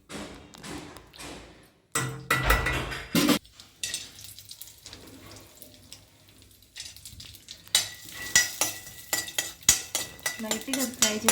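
Peanuts frying in ghee in a pan for peanut chikki: a soft sizzle under repeated clattering and scraping of a utensil against the pan, with irregular bursts of stirring and knocks that grow busier toward the end.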